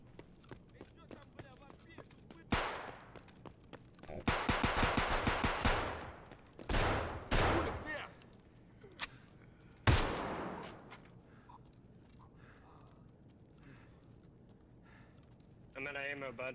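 Bursts of PKM machine gun fire in a first-person shooter game, loud sustained volleys of several seconds separated by shorter sharp shots, with players talking over the action.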